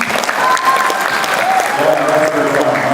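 Steady, dense applause from a conference audience at a Muslim talent show, loud and continuous, with faint voices or calls mixed under the clapping.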